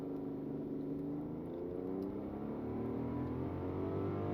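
A 2025 Rolls-Royce Cullinan Black Badge accelerates at full throttle from a standstill, a smooth, steadily rising engine drone heard from inside the cabin, continuous and moderately loud with no harsh edges.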